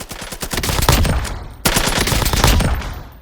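Rapid automatic gunfire from a medium-range weapon on the Warzone firing range, two sustained bursts of loud, closely spaced shots with a brief break between them.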